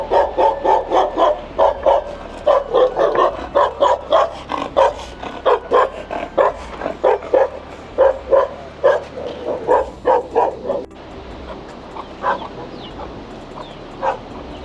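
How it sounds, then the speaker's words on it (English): A village dog in Nepal barks aggressively and nonstop at close range, a loud rapid string of harsh barks that continues for over ten seconds before easing into quieter growls. "Oh, that dog is crazy. Crazy. Yeah, tried to eat me."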